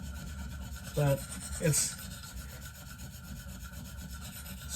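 Benchmade Steep Country knife drawn across a KME 300 sharpening stone: two short, close rasping strokes about half a second apart over a quiet background, while someone speaks softly.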